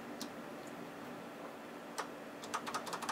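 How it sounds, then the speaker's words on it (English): Clicks from a Logitech G710+ mechanical gaming keyboard, first a few scattered taps and then a quick run of crisp keystrokes near the end, close and fairly quiet over faint background hiss. "So this is a mechanical keyboard."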